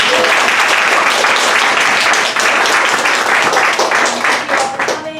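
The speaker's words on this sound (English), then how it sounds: "One more round of applause" An audience at a book event applauds loudly and continuously, a dense wash of many hands clapping close up that thins slightly toward the end.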